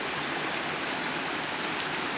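A stream runs through a fern-covered valley on a nature trail in St Vincent and the Grenadines, a steady, even wash of flowing water with no breaks.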